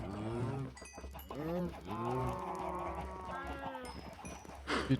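Cows in the Minecraft video game moo repeatedly in long, overlapping drawn-out calls, near and fairly loud, with no talking over them.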